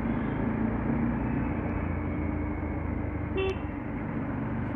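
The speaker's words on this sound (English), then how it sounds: "The rush hour traffic is about to begin." Dense rush hour road traffic on a hot day, heard from a motorcycle ride, with a steady close roar of engines and one short car horn toot partway through.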